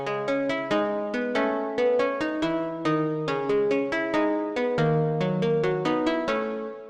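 A plucked-string synth preset in Vital plays a melody of short, bright notes in a steady rhythm, each one decaying quickly, with no voices over it.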